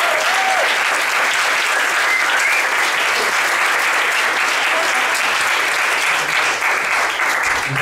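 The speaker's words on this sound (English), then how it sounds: "I think she deserves another round of applause." Sustained, loud applause fills a room at a coding bootcamp demo day in Tokyo, a dense even wash of clapping with no break.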